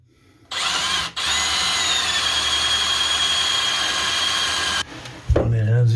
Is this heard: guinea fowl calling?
no